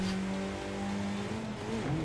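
A car engine in the racing game Forza Horizon 5 hums steadily at moderate volume while driving around a city, its pitch climbing and then dropping as it shifts up a gear.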